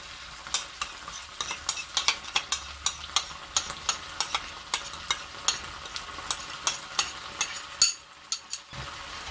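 Blended tomatoes sizzle in a pan with onions for a chickpea curry, a spoon scraping and stirring in a steady rhythm of sharp clicks over a soft fry hiss.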